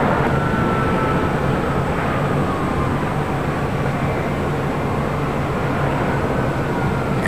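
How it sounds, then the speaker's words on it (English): An Air Tahiti Nui Boeing 787 Dreamliner arriving from Paris roars steadily as it comes in to land at LAX, a broad continuous rumble with no talk. "Air Tahiti Nui Dreamliner coming in from Paris."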